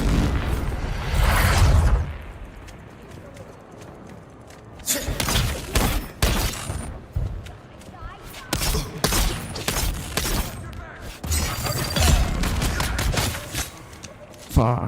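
Bursts of machine gun fire and heavy explosions in the video game Dune Awakening, rapid volleys and booms in clustered waves after a quieter opening, with a player's voice reacting over the gunfire.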